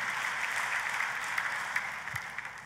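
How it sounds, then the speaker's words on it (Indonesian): Church congregation applauding during a sermon, a fairly distant, soft wash of clapping with occasional sharper claps standing out, continuing steadily throughout. "Kita kasih tepuk tangannya yang paling meriah buat Tuhan kita."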